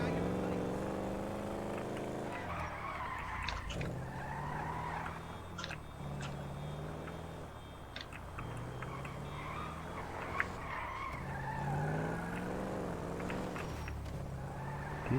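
A stolen car in GTA drives and skids, its engine droning while tires screech in repeated bursts, loud under ongoing talk.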